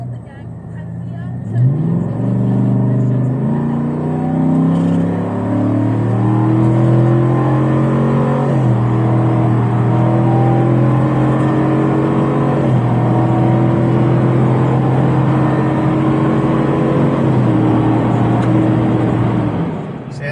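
A Chevrolet Silverado 1500 pickup with a Walkinshaw performance exhaust accelerates steadily, pitch climbing through several gear shifts with a loud, droning exhaust growl heard from inside.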